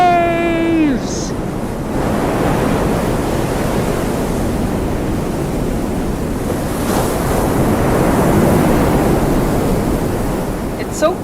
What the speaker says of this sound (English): my favorite outside sound is definitely the sound of crashing